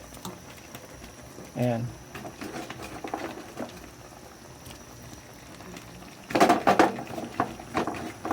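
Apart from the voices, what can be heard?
chayote vegetables sautéing with squid in a pan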